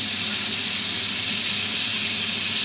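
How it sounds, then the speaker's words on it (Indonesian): Bread toasting in melted butter in a pan, giving a loud, continuous, even hiss of frying fat, close up and unbroken throughout with no voices. "kita layarkan mentega ya, untuk memanggang roti tersebut ya."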